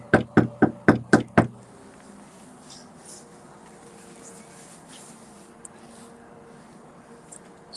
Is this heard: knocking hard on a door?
yes